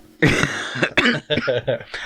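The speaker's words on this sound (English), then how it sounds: "I can only apologise about my cough" Several sharp, harsh coughs come in quick bursts, close and loud, with some throat clearing between them.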